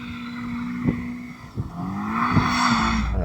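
A BMW M5 CS drifts on a damp track, its engine note rising and falling with sharp bursts of revving and tyre squeal, loud and close, while another voice stays silent.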